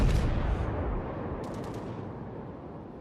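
A German tier 3 battleship's main guns fire in World of Warships, a loud booming salvo that hits at once and then fades into a long rumbling tail and scattered crackles, with no talk.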